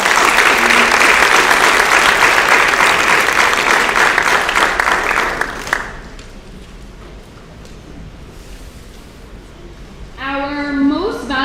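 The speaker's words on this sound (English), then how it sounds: "So please give a round of applause." Auditorium audience at a school athletic awards event applauding loudly and steadily, then the clapping fades out and a horn-like tone sounds near the end.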